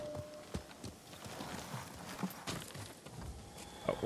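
Horse hooves clip-clop at a walking pace in the video game Ghost of Tsushima, a steady rhythmic series of moderately close hoofbeats over a low ambient game soundscape.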